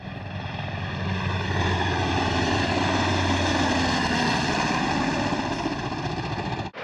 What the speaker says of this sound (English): we've got 2 H-60s, Air Force Rescue Squadron helicopters coming in